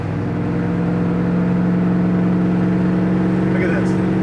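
A 1963 Ford Galaxie 500 Fastback cruises steadily along a road, its engine producing a constant droning hum with road noise, heard from inside the car.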